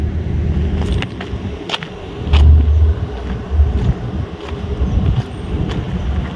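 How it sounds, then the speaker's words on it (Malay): Cars pass near a busy jetty at Kuala Kemaman, a steady low traffic rumble with a few louder swells as vehicles go by. Wind buffets the microphone. "Tapi yo kereta memang banyak."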